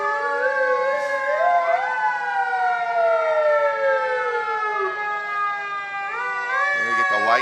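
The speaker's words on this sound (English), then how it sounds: "And they get the lights, the sirens" Emergency vehicle sirens wail in a small-town Independence Day parade, several overlapping rising and falling tones sounding steadily and loudly for the whole stretch, with a horn-like burst near the end.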